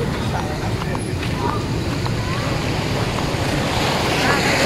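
Waves and wind on a seaside shore form a steady, fairly loud broadband roar with buffeting wind noise on the microphone, constant throughout.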